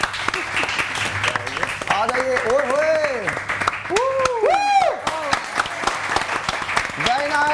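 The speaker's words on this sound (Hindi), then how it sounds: "बहुत सारी तालियां" Studio audience applause on a Pakistani morning talk show set, steady clapping running throughout with a host talking loudly over it and cheering.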